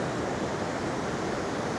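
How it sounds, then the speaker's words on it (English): Ocean surf breaking beside a beach pier on the Carolina coast, a steady, dense roar of waves washing continuously without pause, with no voices. "Some nice waves out there."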